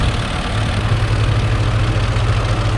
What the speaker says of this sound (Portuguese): está sendo utilizado uma plantadeira de três linhas e um trator New Holland 5630 4x4